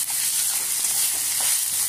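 Ginger and green chili paste sizzles and fries steadily in hot oil with dried red chilies, cloves and cinnamon. The hiss is close and continuous, and no one speaks over it.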